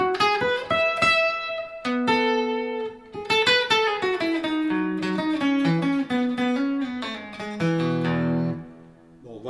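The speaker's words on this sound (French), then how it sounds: "Le piezo tout seul, ça donne ça." Forshage ergonomic electric guitar played through its piezo pickup alone, giving a bright, acoustic-like tone as a short melodic passage of plucked single notes and chords rings out clearly, with brief pauses and no talking.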